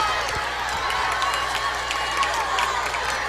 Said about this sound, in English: Belmont fans cheering the guys on.